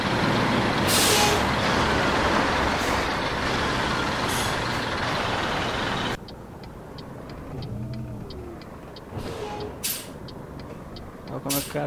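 Air brakes on a Marcopolo Paradiso G4 1150 bus on a Scania K113 chassis in Euro Truck Simulator 2, with a sharp pneumatic hiss and release bursts over engine rumble, then quieter driving with beeps and clicks.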